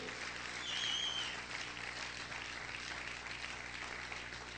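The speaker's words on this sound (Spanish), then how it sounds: "Aplaude fuerte al Rey." Church congregation applauding during a deliverance sermon, a faint, distant, continuous wash of clapping heard as from far back in a large room.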